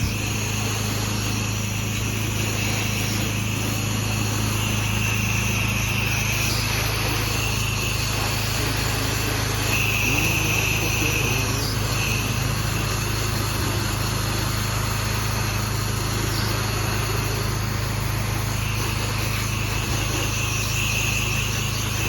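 A pressure washer engine drones steadily and loudly throughout while a house is rinsed, a constant mechanical hum with a high whine and faint water spray over it.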